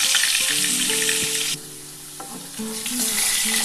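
Potato pieces sizzle and fry loudly in hot oil, a dense steady crackle with a few stirring clinks, easing briefly midway before the frying noise swells again.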